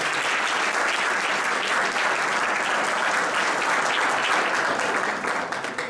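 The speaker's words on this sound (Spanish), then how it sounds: "Un aplauso para él." A book presentation audience gives the author a sustained, dense round of applause, loud and even for the whole stretch with no speech.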